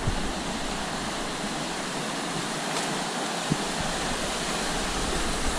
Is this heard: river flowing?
yes